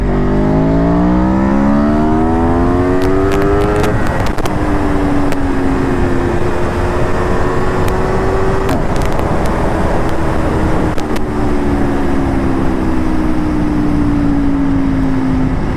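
Aprilia Tuono V4 motorcycle on track tyres accelerating hard through gears on an open road, loud rising engine howls broken by brief gaps at each upshift, a second-gear power wheelie in sport mode.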